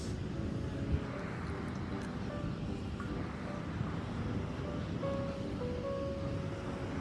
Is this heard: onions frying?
no